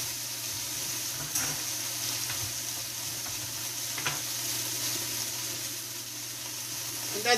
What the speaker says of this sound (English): we're going to add that butter now